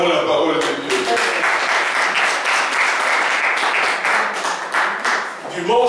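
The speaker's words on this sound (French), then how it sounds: "Acclamons la parole de Dieu" A church congregation applauding at a French-language Sunday service, dense sustained clapping from many hands at close range, with voices mixed in.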